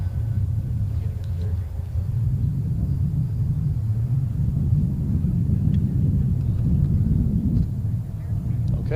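A model aircraft flies a loop at the AIAA Design/Build/Fly competition on a clear, calm day, its steady low motor drone continuous and fairly loud throughout, with a commentator talking over it.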